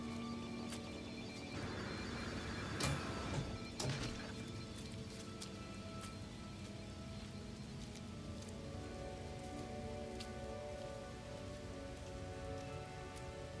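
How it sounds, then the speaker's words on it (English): Steady toxic rain from the video game No Man's Sky patters continuously on the ground across the whole stretch, with a few louder drops and bumps near the start. "I suppose I should just assume when I hear rain, it's toxic."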